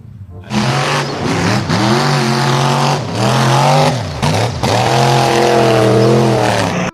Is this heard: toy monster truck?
yes